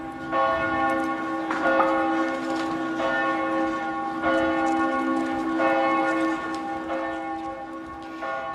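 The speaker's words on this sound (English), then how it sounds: "Churches around the country rang their bells for 5 minutes before the planes carrying the bodies landed." Church bells ringing across the Netherlands in national mourning for victims of the Malaysia jetliner disaster, a steady, loud, overlapping peal of several bells tolling continuously with no voices.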